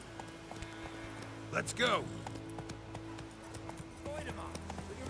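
In The Witcher 3 video game, a horse's hooves clip-clop in a quick gallop under a game soundscape, with a short vocal burst partway through and someone speaking briefly.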